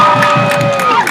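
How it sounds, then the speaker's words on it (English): An audience applauds at a public event in Ottawa: a sustained, loud wash of clapping and crowd noise over background music. "Give a round of applause to George."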